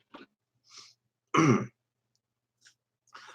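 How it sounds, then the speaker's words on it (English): A single sharp cough from inhaling dust bursts out amid a few faint, short throat noises and breaths, close to the microphone in an otherwise quiet room. "that cough is from inhaling dust, not COPD"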